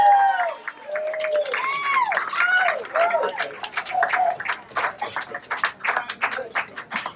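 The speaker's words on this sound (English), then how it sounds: "let me hear one more big round of applause" Wedding guests aboard a ship at sea cheer for a Jewish ceremony, with whoops and shouts rising over a steady patter of scattered hand claps, close and lively throughout.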